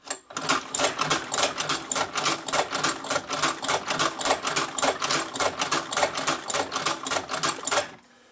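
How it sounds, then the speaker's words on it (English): An Outlaw leather sewing machine stitches a knife sheath in a rapid, steady run of loud mechanical needle thumps lasting about eight seconds, then stops abruptly, with no talk over it. "now we're going to sew right back up the piece"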